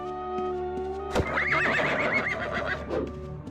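A horse neighs in the video game Ultima Online, one loud whinny rising and wavering for about two seconds over a faint steady game hum, with light hoof clops just before it.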